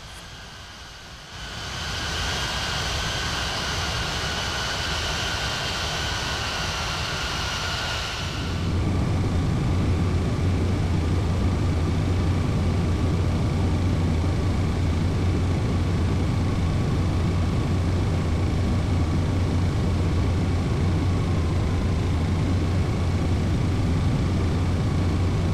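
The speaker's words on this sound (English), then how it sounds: "I want to take a look at the landing of this 737-800 travel service landing at Vienna Airport in Austria at night" A Boeing 737-800 landing at Vienna Airport at night in a flight simulator game gives a steady, loud jet engine roar with a thin tonal whine that grows fuller and heavier partway through.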